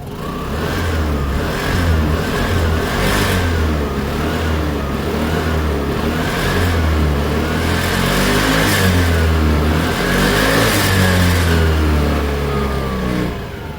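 A motorcycle engine idles low and smooth, then revs up in repeated throttle blips, loud and close, with the steady mid-pitched engine rumble continuing throughout.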